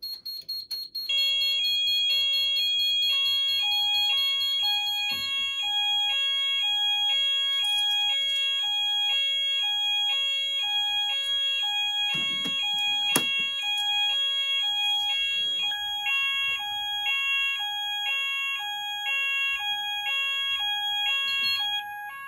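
Fire alarm sounders on a Kentec Syncro panel, set off by an Apollo intelligent call point: loud, continuous electronic tones with a repeating two-pitch pattern and several overlapping sounders, sustained throughout with brief clicks and handling noise.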